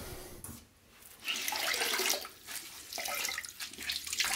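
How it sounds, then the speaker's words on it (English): Water being drained and scooped out of a toilet tank while replacing a noisy fill valve, close sloshing and trickling in uneven bursts with brief quieter gaps. "getting water out of a toilet"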